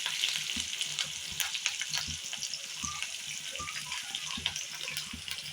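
Onion and green chilli sizzle in oil in a pan while kurdai bhaji is cooked, a steady bright crackle with occasional stirring knocks and clatters close by.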